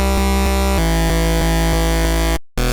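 A Serum synth patch with two oscillators, one shifted down five semitones, sounds a sustained, buzzy seventh-like chord, retriggered in a steady rhythm with a brief dropout near the end.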